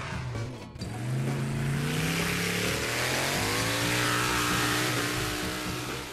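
A car engine revs up and pulls away, its tone climbing and then holding a loud, steady hum, with no voices.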